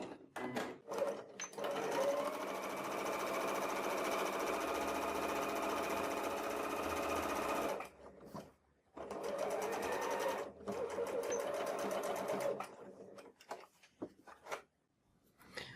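A sewing machine runs a topstitch along the fold of a fabric notebook cover, a fast steady mechanical chatter in two long runs broken by short stops and small clicks, close and alone.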